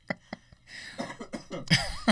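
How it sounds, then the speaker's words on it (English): A sick person gives a few sharp coughs, then a rougher burst of coughing and throat clearing, close and loud. "I can't even laugh right now because I'm gonna cough because I'm kind of sick."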